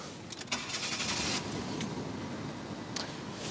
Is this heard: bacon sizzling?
no